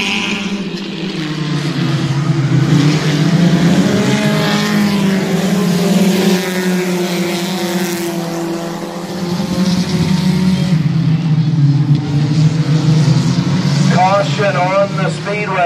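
Trophy stock cars roar around Midvale Speedway, a continuous loud engine drone rising and falling as the field passes, with a voice heard over the racing.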